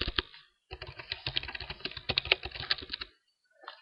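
Rapid typing on a computer keyboard, with a short burst of clicks followed by a longer, dense flurry of keystrokes, close and clear, then a brief pause and a few more taps.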